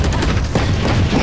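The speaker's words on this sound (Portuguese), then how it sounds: "Granada!" Grenade blast in the Valorant video game: a loud, dense, booming burst filling the whole short moment, close and heavy with low rumble and no clear break.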